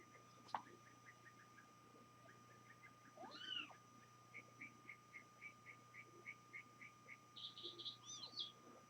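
A house cat that has just given birth to a litter of five kittens, four surviving, with a steady series of short, high, faint mews repeating close by, a louder cry near the middle and a cluster of rapid squeaks at the end.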